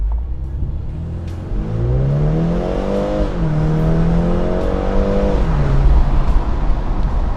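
A 2024 BMW 430i xDrive convertible with a small turbocharged engine pulls away from a full stop, its loud engine note climbing through two rising gear pulls with a shift in between, then settling into a steady cruising drone.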